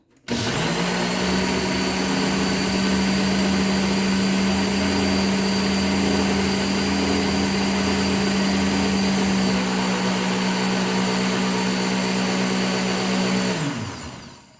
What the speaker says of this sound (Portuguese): Eu desligo o liquidificador